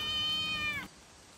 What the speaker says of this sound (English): I saw this kitty walking along this wall